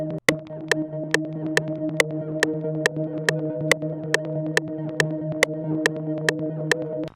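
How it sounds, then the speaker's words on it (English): A sustained synth pad chord drones steadily with delay and reverb, overlaid by a regular clicking percussive pulse, a hard trap beat element, moderately loud with no talking. "But this is what my pad sounds like."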